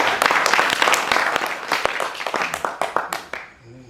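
Attendees at a community meeting applaud together, a dense burst of clapping that gradually thins into scattered individual claps before fading out.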